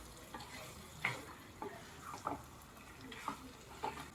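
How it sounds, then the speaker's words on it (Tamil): Chicken varuval sprinkled with coriander is stirred in a pan, with a soft background sizzle and several distinct scraping strokes of a spoon across the pan at irregular intervals, fairly quiet overall. "தூவிட்டு நல்லா ஒரு வாட்டி மிக்ஸ் பண்ணி விடுங்க"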